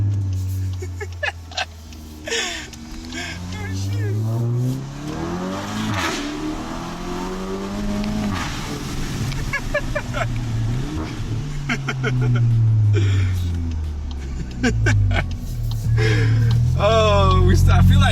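A VW MK8.5 GTI fitted with a Rev9 exhaust revs repeatedly, its engine note rising and falling in loud sweeps close to the microphone while people talk over it.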